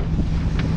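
Strong wind buffets a microphone aboard a sailboat, a close, steady rushing roar with a brief gusty flare, heard alone.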